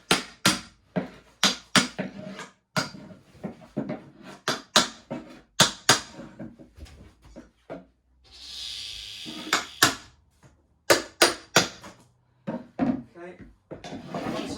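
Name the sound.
tapping chipboard floor where screws are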